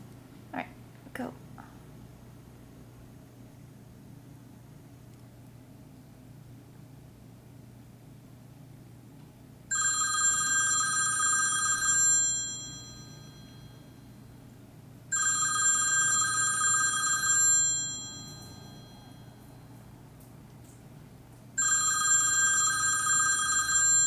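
A phone turned up to maximum volume rings near a group of hermit crabs, three loud sustained bursts of an electronic ring starting about ten seconds in, each lasting a few seconds with pauses between, over quiet room hum.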